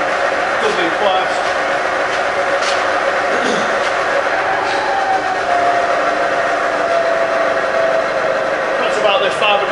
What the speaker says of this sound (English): we're now going to test the variable speed head and the quill